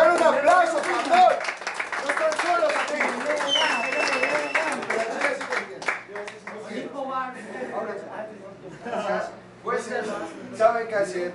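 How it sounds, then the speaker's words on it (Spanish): Crowd at a Spanish-language freestyle rap battle claps and cheers while a loud announcer's voice runs over the top, the applause rising more clearly in the second half. "¡Dale un aplauso, pastor!"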